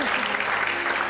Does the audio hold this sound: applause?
yes